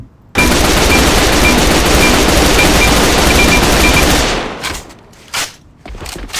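Sustained automatic fire from a K-2 rifle in the shooter game A.V.A rattles loud and continuous for about four seconds, followed by a few shorter bursts.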